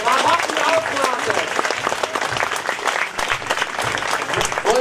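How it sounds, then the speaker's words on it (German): Applause from a seated audience at a formal event in Germany, dense steady clapping throughout with some voices mixed in. "mal richtig einen Applaus, wir haben noch die Hände frei"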